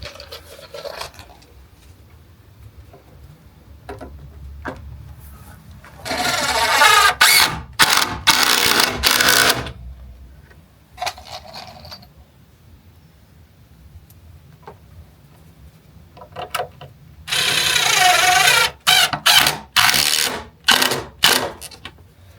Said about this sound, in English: Impact driver, bud?